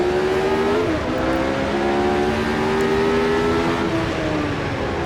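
Race car engine in the Automobilista 2 video game at a wet Interlagos circuit, a loud continuous high-pitched drone with steady rising and falling pitch, one brief gear-change dip, and no talking.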